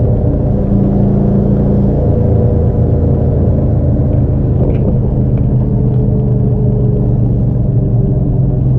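A 1972 De Tomaso Pantera engine hums and rumbles continuously at freeway cruising speed, heard from inside with steady road noise and no talking.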